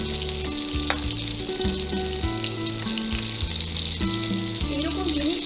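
Bhetki chicken rolls fry in hot oil, a steady close sizzle and crackle running throughout, with background music playing over it.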